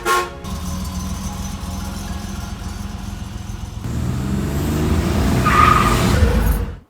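A Buick Grand National with 16,467 miles idles and runs steadily after starting up, its low engine rumble constant and close, swelling slightly louder in the second half before cutting off.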